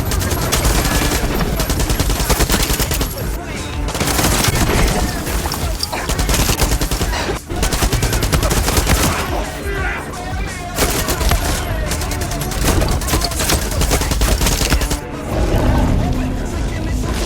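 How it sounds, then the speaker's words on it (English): Rapid bursts of gunfire and explosions from a grenade launcher in the Far Cry video game, a dense, loud, continuous barrage with brief lulls, layered under game music or effects. "I think it's time we go do another gun show, specifically the grenade launcher"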